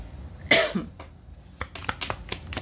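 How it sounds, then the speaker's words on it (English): A single sharp cough bursts out, followed by scattered light clicks and soft knocks in a quiet room. "Sorry about the cough, still coughing here and there."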